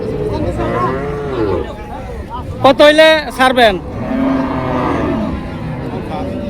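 Heifers at a busy cattle market in Deohata, Tangail, give a loud, close moo in the middle of the scene, while people bargain nearby and vehicles sound in the background.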